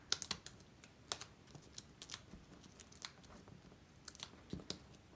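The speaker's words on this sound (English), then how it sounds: "That is the sound of dimensionals and their paper backing coming off of them." Paper backing is peeled off small Stampin' Up dimensional foam adhesives at a craft table, giving quiet, quick crackly ticks and rips in irregular bursts close to the microphone, with no talking.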